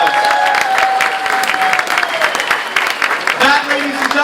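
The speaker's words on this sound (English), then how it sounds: "Give them both a nice round of applause." Audience applause breaks out at a charity gala live auction, a dense, sustained wash of many hands clapping, with voices and a short tonal sound sitting underneath the clapping.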